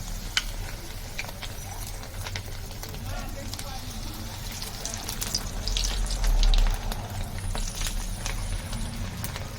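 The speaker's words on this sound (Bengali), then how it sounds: "তেল গরম হয়ে গেছে এবার আমি ভেজে নেব একটা একটা করে এইভাবে ছেড়ে দেবো তেলের পরে" Ridge gourd pakoras frying in hot oil in a wok, a continuous close sizzle with scattered crackles and occasional stirring clinks, swelling briefly partway through, with talk over it.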